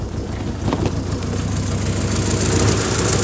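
A 1974 MG Midget engine idles steadily up close, a rough, even low rumble with a slight uneven pulse and no talk over it.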